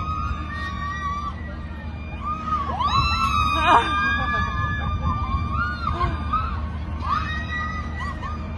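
A woman screams from the audience at a live music event, a brief sharp cry rising over a loud, continuous wash of crowd noise and music, with other voices and cheers around it.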